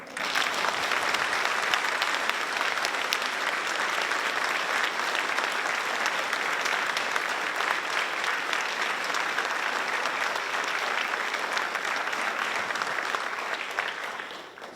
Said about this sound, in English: So now y'all can really clap